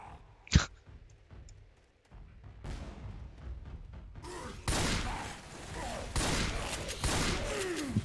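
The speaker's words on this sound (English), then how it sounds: "I'm shooting" Gunfire in the Left 4 Dead 2 video game, a sharp shot early on followed by dense, loud bursts of shooting and chaotic noise that build and continue to the end.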